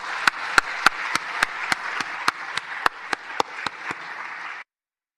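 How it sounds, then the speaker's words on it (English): Steady applause from a crowd, with a few sharp, louder claps standing out at regular intervals before it stops abruptly. "Please, another warm applause for them."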